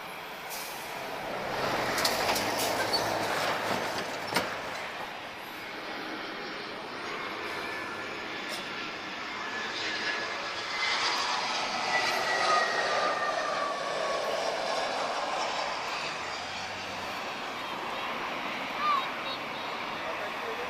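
First-generation Airbus A320 jet with its original wings, arriving at Lisbon Airport. Steady distant engine roar and whine build and linger over airport ambience, with someone talking throughout.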